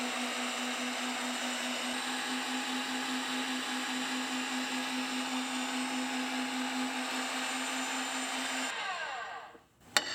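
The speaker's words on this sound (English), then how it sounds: "So it's just simply a matter of starting the machine. It's quite noisy, and running a thread." A pipe threading machine cuts a thread on a pipe nipple with a loud, steady whining drone and a constant pitched hum that runs unbroken for several seconds before the motor cuts off and winds down.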